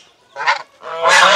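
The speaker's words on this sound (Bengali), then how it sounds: "গ্রামের রাস্তার পাশে দেখতে পাচ্ছি রাজহাঁস। রাজহাঁস শব্দ করছে।" Geese by a village road in Nitira, Munshiganj, giving two loud, close honks, a short one followed by a longer, harsher call.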